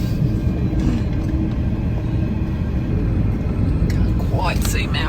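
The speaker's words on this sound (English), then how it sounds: "Stopping for one of these 3 kilometre long trains." A 3 kilometre long freight train passes in the Australian outback near Karijini National Park, making a loud, continuous low rumble that fills the whole stretch, while a person talks over it.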